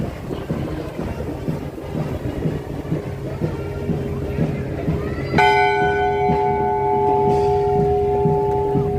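A church bell rings out at the Norwegian Day Parade in Brooklyn, its sustained tones swelling suddenly over street crowd noise and wind buffeting, with voices chattering nearby.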